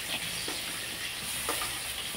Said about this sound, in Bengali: তো ওই তেলে কিন্তু আলুগুলো একটু নেড়ে